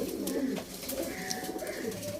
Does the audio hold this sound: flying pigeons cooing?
yes